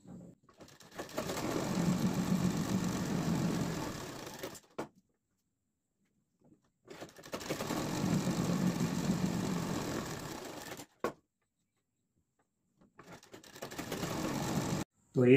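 A sewing machine stitches pintucks across palazzo pant fabric in three long whirring runs of about four seconds each, close and steady, with short silent pauses between them and a brief mechanical clunk.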